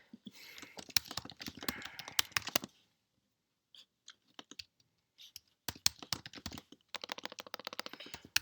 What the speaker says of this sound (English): type my secret password super fast